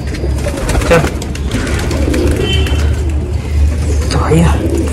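Pigeons coo close by with low, throaty, repeated calls over a murmur of background noise.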